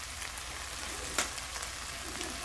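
Bacon frying in a pan for loaded cheeseburger fries gives a soft, steady sizzle with faint crackles and one brief sharp pop partway through.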